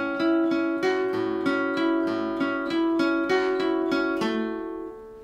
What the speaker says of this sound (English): the first two bars together slowly sound like this